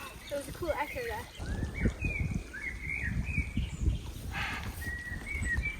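Birds chirp and sing in short bright calls over an outdoor background, with soft irregular knocks and rustles close by.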